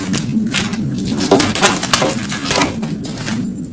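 A deck of playing cards being cut into packets by hand, a close, continuous run of papery shuffling, riffling and slapping with no pauses.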